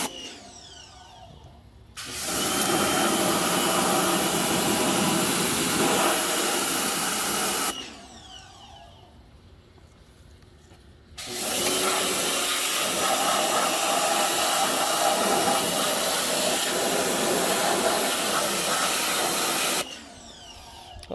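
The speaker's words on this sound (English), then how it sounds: "A little Harbor Freight electric pressure washer is kind of handy." Harbor Freight electric pressure washer spraying a cast iron shaper, two long steady hissing bursts of several seconds each with a low motor hum between them, close and loud.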